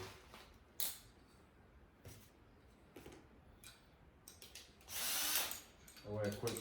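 Short bursts of a power drill whirring while building outdoor patio chair furniture, brief and intermittent, with a louder sustained run near the end amid light handling noise.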